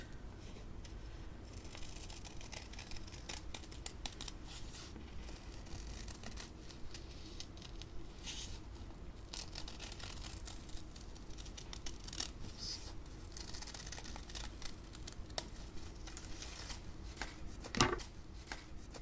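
Scissors snip through folded paper in steady small cuts, quiet and close, with a faint continuous rustle of paper being turned between snips.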